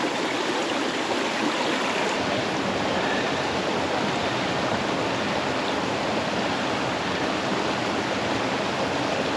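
A creek on a Utah slot canyon hike runs in a steady, loud, broadband rush with no pauses, like close water tumbling over rocks, and no one speaks over it.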